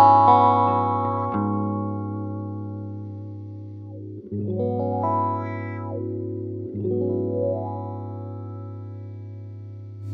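Sustained guitar chord played through a VOX wah pedal, handwired model, with the wah sweeping slowly up and down; the chord is re-struck a couple of times, rings loud and alone with distorted, effected tone.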